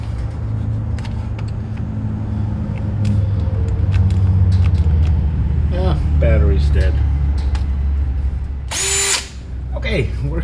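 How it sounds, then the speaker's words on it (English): A cordless power drill whines loudly and continuously as it bores a bracket hole on a 1969 Chevy C10 truck, revving slightly, then stops; a short voice and rattling follow. "we need to make a mark here, so we can drill a hole for the bracket"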